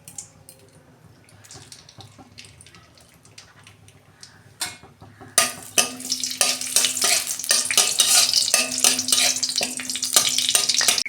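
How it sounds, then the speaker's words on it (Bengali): Dried red chilies fry in a pan of hot oil, a quiet start giving way to a loud, steady sizzle with stirring clatter from midway on. "এই যে শুকনো লঙ্কাটা ভাজা হয়ে গেছে,"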